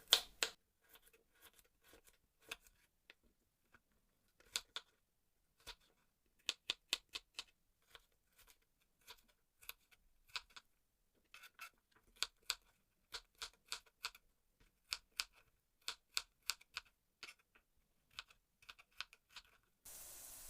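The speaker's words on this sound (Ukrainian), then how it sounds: "Моркву нарізаємо теж дрібними кубиками." A knife dices carrots on a cutting board in quick irregular runs of sharp clicks, pausing briefly between bursts, close and fairly quiet.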